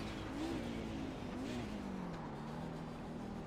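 A Nissan race car with a twin-turbo 3-liter V6 drones through the Road America 500 in a racing simulation, its engine a steady, fairly faint tone rising and dipping slightly as it closes in.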